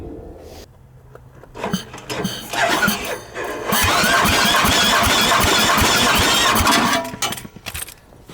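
A John Deere 318 lawn tractor engine with a starter problem cranks on its starter, a rapid, uneven churning that builds to a loud, steady spin for several seconds before dropping off, with no one speaking.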